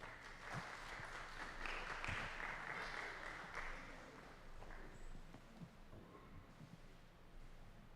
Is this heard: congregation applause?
yes